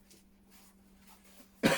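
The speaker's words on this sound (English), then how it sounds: "battling a cough from COVID" A single sharp cough near the end, close and fairly loud from someone recovering from COVID, preceded by quiet room tone and a faint steady hum.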